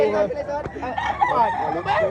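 A rooster crows amid the bustle of a rooster expo in Pinamungajan, Cebu, its call rising over steady crowd noise and nearby chatter.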